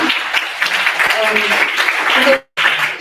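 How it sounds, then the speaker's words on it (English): Audience members applaud a woman at a property roadshow career-planning event, with clapping running under a voice and a short silent break near the end. "big round of applause for that lady"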